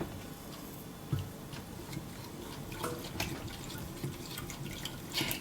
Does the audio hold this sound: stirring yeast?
yes